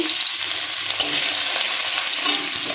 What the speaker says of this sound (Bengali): তেলটা গরম হয়ে গেছে, এবার আদা কুচিটা দিয়ে দেব।